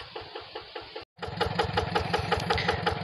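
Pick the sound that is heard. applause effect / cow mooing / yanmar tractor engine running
yanmar tractor engine running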